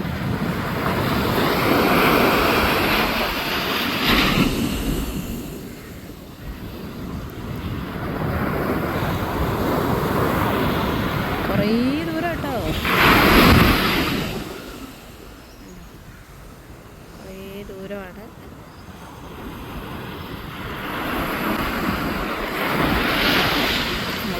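Strong wind buffets the microphone over rolling surf, rising and falling in long gusts with no voices.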